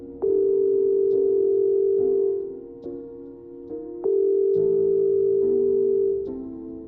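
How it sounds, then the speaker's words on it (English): Telephone dial tone while a call to the police is placed: clear, steady tones that stop and restart with short gaps, heard alone with no voices. "make this harrowing phone call to police"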